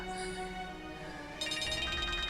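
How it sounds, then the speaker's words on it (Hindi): A mobile phone ringtone sounds for an incoming call, a steady electronic melody at moderate level that grows brighter and busier partway through, with no talking over it. "लेकिन इरफान का फोन आ रहा है।"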